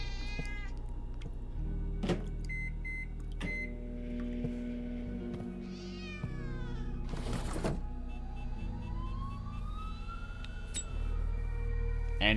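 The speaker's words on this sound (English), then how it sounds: "And we have a cat, apparently." A cat meows a few times within the ambience of The Operator, a detective video game, with steady background tones and occasional thunks around it.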